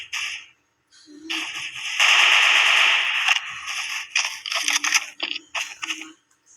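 Gunfire in a Mount Everest battle video game, with sharp bursts and rapid clattering volleys of shots in loud clusters, separated by brief quiet gaps and mixed with other game effects.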